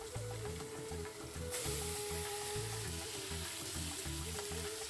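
Katla fish belly pieces fry in a small amount of oil, giving a continuous close sizzle under a low steady hum and faint rhythmic background sounds, with no talk.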